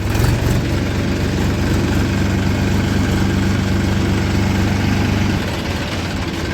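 Tractors loaded with sugarcane idle in a queue at a sugar mill in Daurala, Meerut, producing a loud, steady low engine drone that continues without a break, with no talking.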